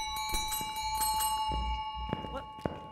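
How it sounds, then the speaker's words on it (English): A bell inside a haunted insane asylum in the game Phasmophobia rings with sustained, steady tones through the whole stretch, layered over footsteps and scattered thumps. "I hate that bell."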